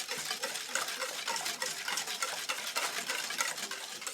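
Brown and white cane sugar stirred in a mixing bowl, a steady close scraping and gritty rustling with spoon clinks, continuous and fairly loud with no talking.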